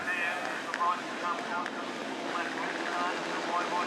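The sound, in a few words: Supersport 300 race motorcycles revving at race start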